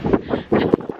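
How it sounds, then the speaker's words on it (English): Gusty wind on a stormy day in the UK buffets the microphone in close, heavy bursts of rumbling noise with short pauses between them, with no other sound standing out. "Oh, bit windy."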